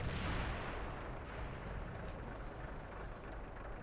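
Tank main gun firing in World of Tanks, a T26E4 SuperPershing premium medium tank, heard as a loud booming blast at the start that rolls into a long rumbling decay with steady low engine roar underneath.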